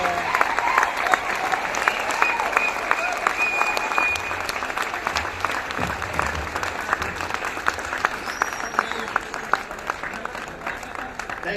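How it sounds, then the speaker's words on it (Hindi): Sustained audience applause fills a hall at a program in Patna, a thick continuous patter of many hands clapping at an even level for the whole stretch, with faint crowd voices underneath. "तालियां बजती रहेंगी"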